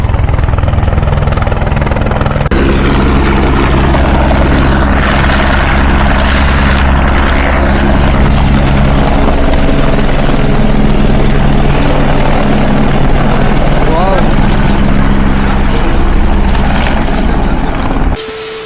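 Helicopter landing at the Kedarnath helipad in the mountains, a loud steady rotor and turbine roar with heavy low thumping that holds throughout, building up sharply after a quieter opening.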